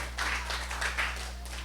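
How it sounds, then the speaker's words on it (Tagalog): A church congregation's applause, a short burst of dense clapping over a steady low hum, fairly close and full. "Yung pinakamalakas na palakpak nga po natin para sa ating Diyos na buhay."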